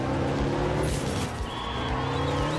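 A small rally car's engine and exhaust drone and rev in the video game art of rally, a continuous loud buzzing with shifting pitch and a brief tire scrub, no talking.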